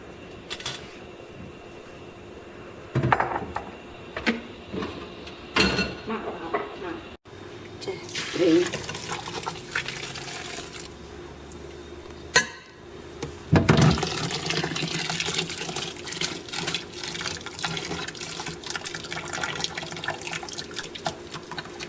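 Water from cooking shrimp is poured and splashed in a pot while a glass noodle salad is made, with running and dripping liquid sounds at close range and occasional clatter, under intermittent talk.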